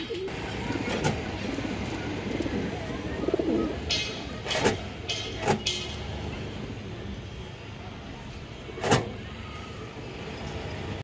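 Indian high flyer Kaldam pigeons coo softly over a steady bed of background noise, with a few sharp clicks and knocks scattered through.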